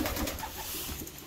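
A racing pigeon hen coos close by in a few soft, throaty rolling calls, with no talking over them.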